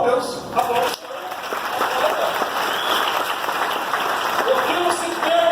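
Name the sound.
congregation applause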